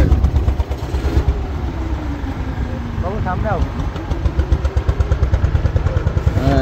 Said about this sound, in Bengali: পশুর নদীতে মিলিয়ে গেল বেলায়েত সর্দারের ট্রলার।